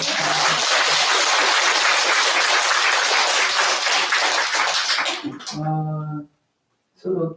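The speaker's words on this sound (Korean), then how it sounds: "크게 박수 한번 주시죠" A congregation at a Buddhist memorial service for the New Year ancestral rite gives a loud, sustained round of applause lasting about five seconds, then a voice begins speaking after a brief silence.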